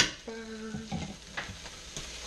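Minced garlic dropped into a frying pan and stirred, a quiet sizzle with soft scraping strokes and a brief tonal hum partway through.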